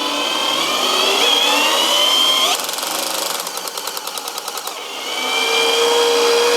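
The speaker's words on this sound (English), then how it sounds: "So it can spin up the big chuck, but it's only spinning it at 90 RPM." Machine spinning up a big chuck to about 90 RPM, a loud whining motor that drops into a rapid rhythmic ratcheting chatter for a couple of seconds before surging back to a strong whir, close and without talk.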